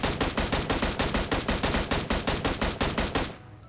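Automatic gunfire in PUBG Mobile, one rapid sustained burst of about twenty evenly spaced loud shots that stops abruptly near the end.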